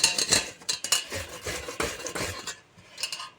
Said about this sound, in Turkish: 2 kafa soğanı rendeledim arkadaşlar. Üçüncü kafa bu.